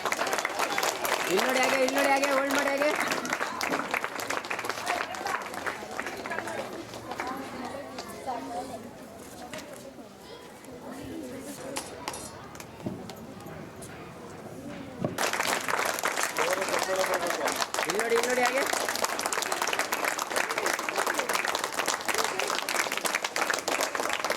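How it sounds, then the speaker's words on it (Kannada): Loud applause from an audience at a government primary school event fills two long stretches, easing into a quieter middle section, with voices mixed in throughout. "ಜೋರಾಗಿ ಚಪ್ಪಾಳೆ"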